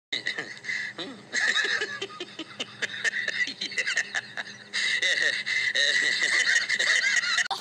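A crowd of chickens at a poultry farm clucks and squawks noisily and without pause, their calls overlapping close by.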